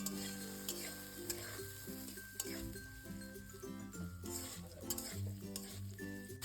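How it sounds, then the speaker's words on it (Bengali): Potato pieces sizzle steadily in hot oil, a close, continuous crackle with occasional scrapes of a utensil in the pan. "লাইট ব্রাউন করে আলুটাও এখানে ভাজা হয়ে গেছে"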